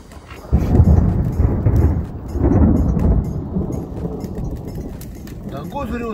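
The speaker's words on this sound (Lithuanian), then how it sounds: "Dangus griūna. Mumis užpuolė lietus" Heavy rain with low, rolling thunder swells over an outdoor grill where Armenian shashlik is being cooked, the rumble loud and broad for several seconds while voices are present.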